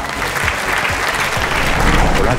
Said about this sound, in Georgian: გავაცილოთ აპლოდისმენტებით ბექა თურმანიძე